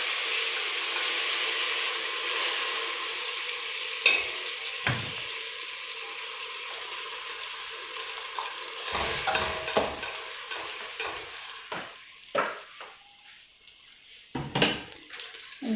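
Sugar mixture with baking soda stirred in a pot for homemade sweetened snacks: a steady bubbling hiss with repeated scraping strokes and a few sharp knocks against the pot, close and moderately loud throughout.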